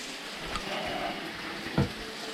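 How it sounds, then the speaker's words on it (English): Scrambled egg stirred in a frying pan at breakfast, a steady soft sizzle with faint scraping and a brief louder clack near the end, no voices. "Start stirring our scrambled egg."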